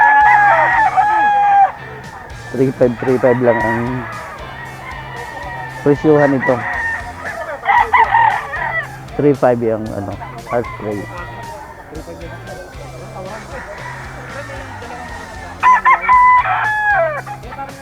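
Several gamecocks crow and cluck at a rooster market in a grotto, loud repeated crows rising and falling over one another close by, with someone talking between and under them.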